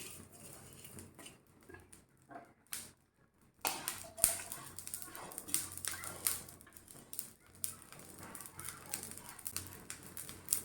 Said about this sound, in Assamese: চব গুটি, গোটা ধনিয়া, গোটা জিৰা একেলগে ভাজি দিছোঁ।